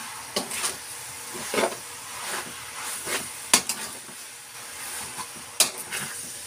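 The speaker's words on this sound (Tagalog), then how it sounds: "Halong mabuti. Para mag-mix yung kanyang oil at saka yung sugar and everything." Biko, sticky rice with oil and sugar, is stirred in a pan, giving repeated scraping and knocking strokes at an irregular rhythm over a soft, faint sizzle.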